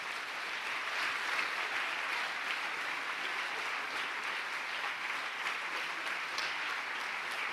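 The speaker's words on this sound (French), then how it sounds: "on les applaudit" An award ceremony crowd applauds psychiatric care teams in a continuous, even patter of many hands, heard from a little distance and fairly soft throughout.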